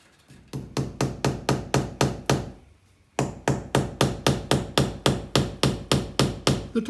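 Steady, loud hammer blows driving masonry nails into a brick wall's mortar, ringing out in a regular rhythm, a few quick strikes, a brief pause, then a long run of evenly spaced whacks.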